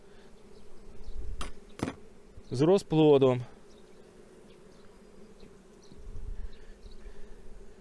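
Honeybees on brood frames of a young spring colony, a soft steady buzz throughout with a brief louder burst of wingbeats near the middle, close by, and a voice speaks briefly.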